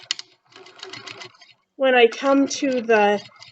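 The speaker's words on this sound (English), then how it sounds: "I'm going to sew this side really quickly." A sewing machine stitches along the side of a small fabric snack bag or mask pouch in a quick, close, rattling burst, then a voice talks over the quieter room.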